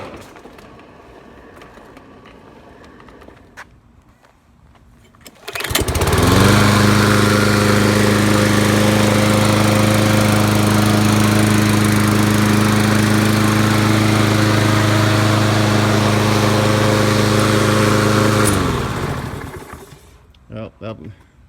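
A Kohler engine on a 2013 MTD/Craftsman push lawnmower starts after a pull and then runs steadily at a loud, close drone for about thirteen seconds before cutting off; a voice can be heard before the start.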